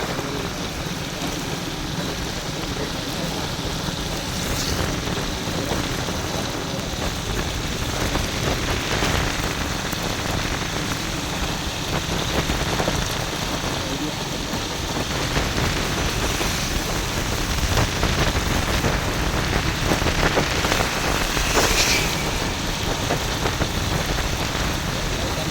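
Heavy storm rain pours down steadily in Jaffna, a dense, continuous hiss of drops beating on surfaces with no letup and occasional louder splashes.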